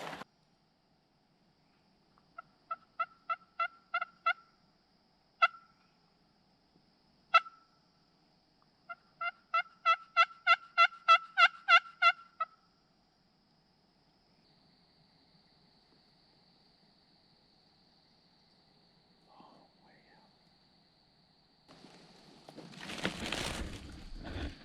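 Wild turkeys in Mississippi gobble in bursts out in the open, a few short calls then a longer rolling series, followed by quiet and faint rustling.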